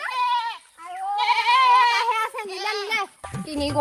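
A mother goat bleats loudly and close by for her missing kid, giving several drawn-out, wavering calls in quick succession, followed by a short burst of rougher noise at the end.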